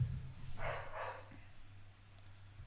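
An indoor dog gives a couple of quick barks in the middle of the clip. The barks are faint and quiet, with no voices over them.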